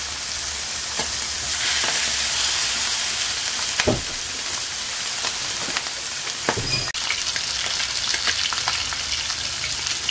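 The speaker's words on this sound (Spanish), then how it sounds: "la piel va a soltar grasa y eso mismo va a ayudar para que el pollo se fría un poco" Chicken pieces fry in the fat rendered from their own skin, a steady loud sizzle and crackle running throughout with a few sharper pops and stirring clatters.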